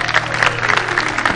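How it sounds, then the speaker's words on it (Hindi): Audience applause at a televised Urdu ghazal concert, a dense continuous patter of clapping running steadily throughout, with a low musical drone underneath. "तालियां।"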